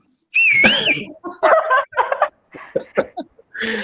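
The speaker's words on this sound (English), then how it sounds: "At least they deserve a whistle." A person whistles a brief, warbling celebratory whistle during an online alumni reunion, followed by several voices chattering in short bursts.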